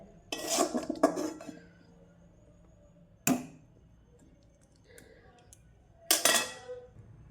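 A wok is scrubbed clean with soap, giving three separate bursts of close metallic clattering and scraping against a quiet kitchen background.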